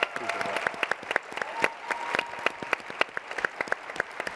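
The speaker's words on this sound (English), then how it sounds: "I just wanna give you a big round of applause for that" Audience applause at a live talk event, steady clapping from a crowd with sharp individual claps standing out, sustained for several seconds at moderate volume.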